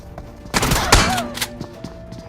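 Shotgun fire in Battlegrounds Mobile India, with two heavy, close blasts in quick succession followed by smaller thuds and game effects, and no talk.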